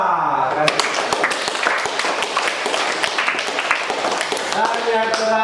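Classroom applause for a student group in a teacher training session, dense clapping from many hands sustained throughout, with voices calling out over it.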